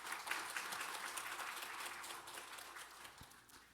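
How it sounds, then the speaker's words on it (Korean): Soft, dense applause from a church congregation welcoming a new choir accompanist, heard at a distance and fairly quiet, with a continuous wash of many hands and no speech over it. "박수로 환영하십시다."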